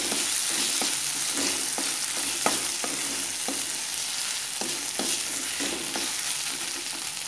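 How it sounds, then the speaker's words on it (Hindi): Paneer and capsicum bhurji with kasuri methi and green chilli being stir-fried in a pan, a continuous sizzle with regular spatula scrapes and taps repeating every second or so. "फिर इसमें डालेंगे हरी मिर्च और अच्छी तरह से उसे मिक्स कर लेना है।"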